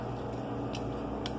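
A steady low mechanical rumble of a washing machine running in the background, with a couple of faint ticks on top.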